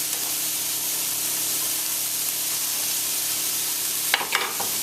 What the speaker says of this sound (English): I'm hearing that lovely sizzle in the pan going on at the bottom.